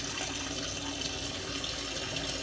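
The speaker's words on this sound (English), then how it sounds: "I'm gonna let the water run" Tap water runs steadily into a sink during a wet shave, a continuous even splashing hiss that stays at one level throughout with no voices.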